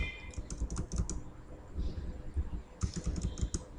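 Code is typed on a computer keyboard in quick, clattering bursts of keystrokes, easing off briefly in the middle before a fresh flurry of typing; no voices.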